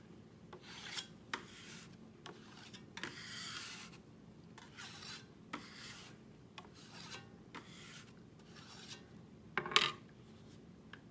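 A large scraper bought at Lowe's works melted chocolate on a flat surface, making a series of short rasping scrapes with quiet gaps between them and one sharper, louder scrape near the end. No one speaks.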